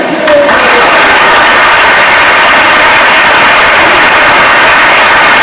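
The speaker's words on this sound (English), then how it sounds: "can I please have a round of applause for all seafarers out there" Loud, thick applause and crowd noise fills a hall at a Day of the Seafarer 2023 event in Durban, a continuous wash of clapping from a large audience that holds steady throughout.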